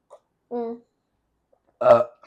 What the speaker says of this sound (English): That was the burp of a fairy, bro.